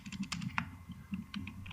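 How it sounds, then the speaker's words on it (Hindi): Keys clatter on a computer keyboard during data entry into an Excel invoice sheet, a quick irregular run of close, light clicks with short pauses between bursts. "इसके अंदर हम डाटा टाइप कर देते हैं"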